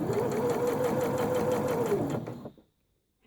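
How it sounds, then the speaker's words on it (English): A Janome DC6050 sewing machine runs a straight stitch with the needle in the center position, a steady close mechanical whir lasting about two seconds before stopping, followed by brief silence. "So I'm going to start off by stitching some straight stitch with the needle in the center position."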